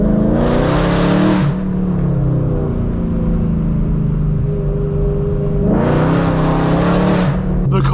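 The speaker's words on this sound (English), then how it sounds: "The car sounds insane today." A BMW E92 M3 on a canyon drive revs hard twice, each rise a loud rasping climb, with a steady deep engine drone between the bursts, close and dominant, no voices.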